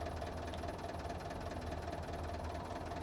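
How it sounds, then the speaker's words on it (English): Vehicle engine running in the video game Sniper Elite 4 at the Magazzeno Facility, a steady low rumbling drone with a faint knocking pulse, constant and moderately quiet throughout. "He's probably not going to hear me running above the engine noise."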